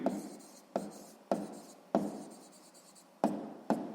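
Pen writing numbers in a school notebook, a series of six short scratchy strokes in uneven rhythm, close and quiet, each a sharp onset that fades, with no talk.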